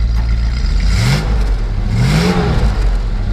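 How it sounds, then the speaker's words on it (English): A 1976 Dodge D100 Adventurer pickup engine is revved twice from idle, each rise swelling and falling back, heard up close and alone. "Go ahead and rev it up a little bit."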